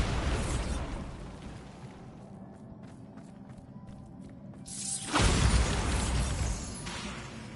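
Bombarda spell blast in Hogwarts Legacy, a sudden loud burst erupting after a quieter stretch of rhythmic ticking, then rumbling and crackling as it fades over several seconds.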